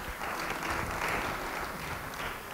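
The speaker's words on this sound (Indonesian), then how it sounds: "Beri tepuk tangan bagi dia." Audience applause in a church sermon setting, a brief burst of crowd clapping that swells and then eases off, moderately faint and with no speech over it.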